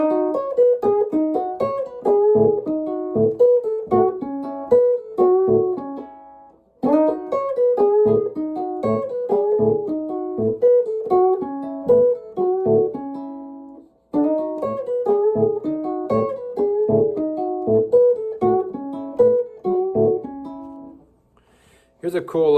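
Electric blues guitar playing a Chicago-style run with a steadily thumped low A bass note underneath, repeated in three clean phrases with short gaps, close and alone.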